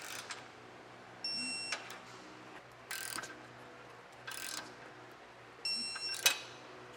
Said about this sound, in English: So now I'm going to torque all the hardware down to the specs and the instructions.